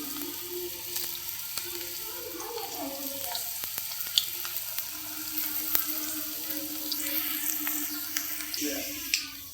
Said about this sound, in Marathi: त्यामध्ये आता एक एक करून हे कोफते सोडायचे आणि तळून घ्यायचे